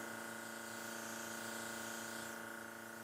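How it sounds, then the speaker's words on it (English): A Dinair airbrush sprays makeup in a steady, even hiss that holds for a few seconds without pause, close and quiet under a faint background hum. "Spray my hand or a tissue to make sure that's coming out"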